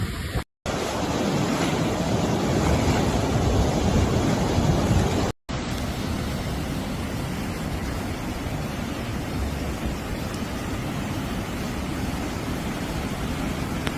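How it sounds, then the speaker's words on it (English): Floodwater rushes down a street during sudden flooding in Central Europe, a dense, continuous roar of flowing water with wind buffeting the microphone, steady throughout apart from two brief dropouts. "Tam po drugiej stronie już ulicą woda płynie."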